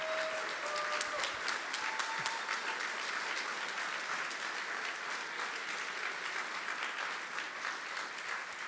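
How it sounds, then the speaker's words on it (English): An audience at a programming contest closing ceremony applauds continuously, a sustained wash of many hands clapping at an even level, with a few faint voices beneath it. "A big round of applause."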